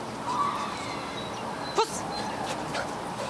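A dog at a Ukrainian search-and-rescue dog championship gives a brief whimper and a short bark against a steady outdoor background, faint and mostly distant.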